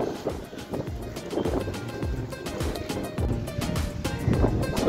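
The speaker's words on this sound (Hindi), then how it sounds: "तो गाइस ये है मारियाना बीच" Surf washes and rumbles steadily along the shore at Mariana Beach, with wind noise and a few faint voices mixed in, no clear break between the waves.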